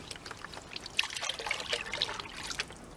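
Water trickles and sloshes softly in a gold pan during the final pan of a creek sample, a faint close swirl over about three seconds.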